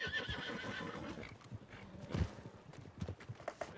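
A horse in a Wild West roleplay video game neighs loudly with a long whinny, while hooves clip-clop in an uneven rhythm and a brief voice murmurs underneath.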